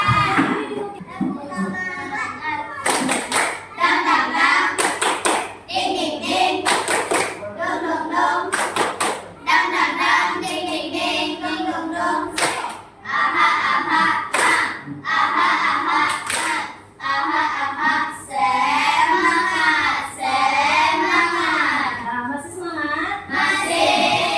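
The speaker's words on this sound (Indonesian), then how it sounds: "Kita tepuk semangat dulu." Children at a school lesson clap together in a rhythmic chant pattern, with bursts of sharp claps alternating with sung or spoken chant, loud and close, mixed with voices throughout.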